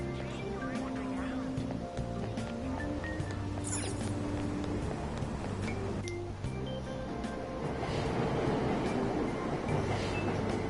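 Train sounds at a station in Persona 5 Royal, a steady mechanical hum and rolling rumble with tonal chimes and brief high squeals, building slightly louder toward the end.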